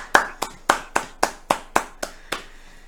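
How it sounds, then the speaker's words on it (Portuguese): A single pair of hands claps about eight times in a steady rhythm, each clap sharp and close, slowing slightly toward the end. "Uma salva de palmas!"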